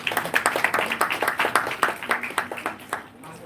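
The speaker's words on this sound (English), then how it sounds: "Please join me in giving Ms. Sapna Changrani a warm round of applause." Steady applause from a seminar audience, many hands clapping in a quick continuous patter that fades slightly toward the end.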